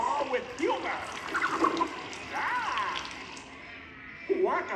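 A water spray effect in the Muppet*Vision 3D show at Walt Disney World: a broad hissing spray mixed with bursts of lively character voices talking over it, rising and falling for several seconds.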